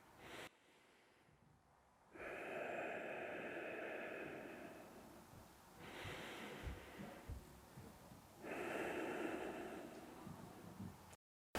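Deep slow breathing during trigger point release for back pain, three long airy breaths separated by quiet pauses, close and soft, with no talk.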